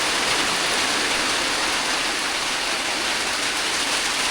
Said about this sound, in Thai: ฝนตกแต่ว่ามีแดดอยู่